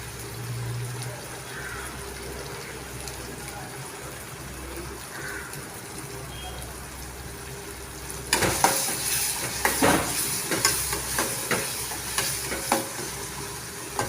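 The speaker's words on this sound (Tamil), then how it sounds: "நல்லா இந்த மாதிரி பேஸ்ட் மாரி நம்ம எண்ணெயிலே நல்லா வதக்கிக்கலாம்" Paste sizzles softly in oil in a pan for egg podimas, a steady frying hiss; partway through, stirring starts with a spoon repeatedly scraping and clinking against the pan, close and rhythmic.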